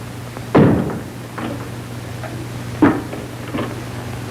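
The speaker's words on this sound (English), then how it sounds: "Close that door." In an old 1940 film scene, a close, heavy thump sounds like a door being shut, followed by several softer knocks and bumps in a quiet room.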